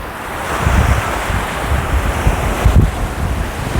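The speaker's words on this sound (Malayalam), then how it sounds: "ഈ കടലിൽ നിന്നൊരു ചെറിയ തണുത്ത കാറ്റും അടിക്കുന്നതുകൊണ്ട്" Sea waves surge continuously onto Veli beach in Trivandrum, with muddy, sand-laden water and a steady roar, while gusty wind buffets the microphone with low rumbling throughout.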